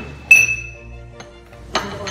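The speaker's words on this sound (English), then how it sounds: "And our glass mortar and pestle." Glass mortar and pestle handled on a bench among pharmacy compounding equipment, giving a bright clink with a short ringing tail, followed by a couple of fainter taps and a second sharp clink near the end.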